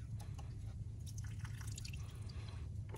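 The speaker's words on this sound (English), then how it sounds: "So I'm just gonna carefully pour it and make sure you don't get it into the intake runners." Water drips and trickles quietly as it is poured around the intake manifold of a Dodge Nitro 4.0L V6 engine, faint irregular splashes over low background rumble.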